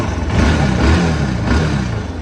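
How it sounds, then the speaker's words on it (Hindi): A Bajaj NS160 motorcycle with a newly fitted cylinder head idles in neutral, a steady, close, dense engine rumble holding even throughout with no talk over it. "ये सुनो भाई, इंजन का साउंड सुन रहे हो"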